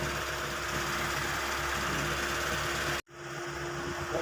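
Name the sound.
1995 Mitsubishi Lancer engine idling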